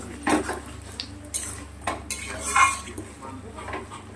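Spice paste for egg curry is stir-fried in a pan. A spatula scrapes and clanks against the metal in irregular strokes over a low background hum.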